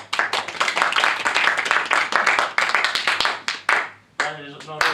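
An audience at the close of a magic show bursts into dense, close clapping that fills the room for several seconds. It thins out near the end, and a voice speaks briefly over the last claps.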